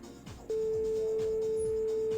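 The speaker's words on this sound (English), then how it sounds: "I hope you like phone noises." A steady, loud telephone tone starts abruptly and holds unbroken after a brief stretch of quieter dialing sounds, from a phone in the game My Winter Car.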